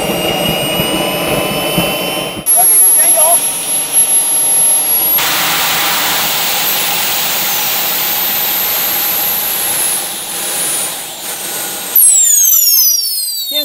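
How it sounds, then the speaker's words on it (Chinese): A turbojet engine mounted on a jet surfboard, fired up at the shore after cutting out under throttle, roars close and loud with a high whining tone that climbs and shifts throughout, a steady unbroken rush with no voices. "刚刚就是这边这台发动机一加油它就熄火，我启动一下看看什么情况。"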